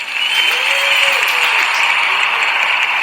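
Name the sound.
audience applause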